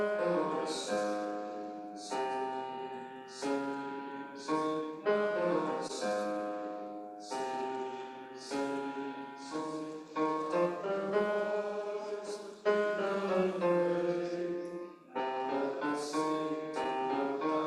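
A church congregation's low voices sing hymn 368 at a worship service, sustained sung phrases with short breaths between lines, steady and moderately distant with no talking over them.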